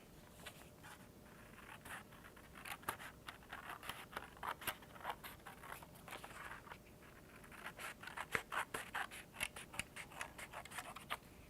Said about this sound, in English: We're going to grab some scissors and cut it out.